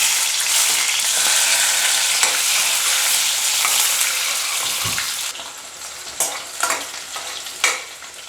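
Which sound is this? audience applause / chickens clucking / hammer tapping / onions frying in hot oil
onions frying in hot oil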